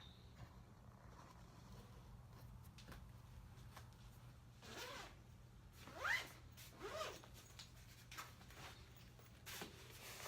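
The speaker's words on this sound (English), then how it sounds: "When you go to zip it" A zipper pulled closed around a packed spring-break suitcase, a few close, scratchy zipping strokes with short bursts between quiet handling sounds.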